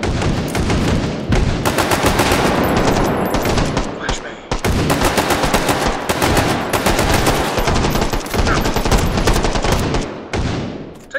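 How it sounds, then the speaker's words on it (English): Sustained automatic gunfire in the VR shooter game H3VR: loud, dense bursts of rapid shots fill nearly the whole stretch, with only a brief pause midway and a short gap near the end. "Taking fire."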